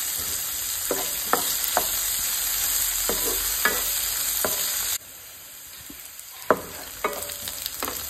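Onion and green chili stirred and fried in a pan for Goan-style chole: steady sizzle with repeated scraping strokes of a spoon, a brief dip in the frying noise midway, then more stirring clatter.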